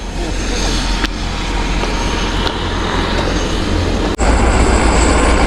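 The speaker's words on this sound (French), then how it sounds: "l'hélico vient d'arriver" Helicopter arriving over the Khumbu Icefall at about 5000 m, a loud steady engine and rotor drone with low throbbing hum, briefly dipping before surging back louder.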